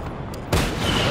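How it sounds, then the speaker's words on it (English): In the video game Just Cause, a missile barrage opens on the player with a sudden loud booming rush of fire after a brief quieter stretch, sustained and close. "these things are shooting missiles at us"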